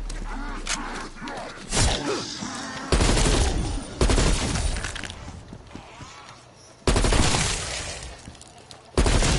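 Pistol gunfire in a video game: loud, sharp shots at irregular intervals, some close and punchy, with game noise and crackle filling the gaps between them.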